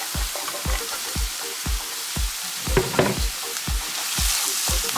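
Chopped carrots frying in about a tablespoon of butter with salt give a steady, loud sizzle, with quick stirring or spatula taps recurring throughout and no talk.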